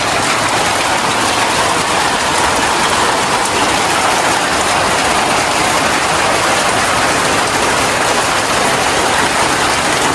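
Heavy rain pours onto the tin roof of an old house, a dense, unbroken hiss and patter that stays loud and even throughout with no speech.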